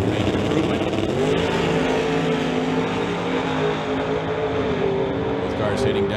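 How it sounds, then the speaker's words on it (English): Two drag racing cars launch side by side down the strip at a Lordco event, their engines roaring loud and steady for the whole stretch with a rising rev as they pull away. "Both cars heading down track."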